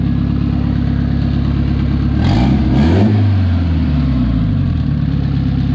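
A Honda CRX engine runs loud and close at a rough idle, with a quick rev rising and falling in the middle of the clip.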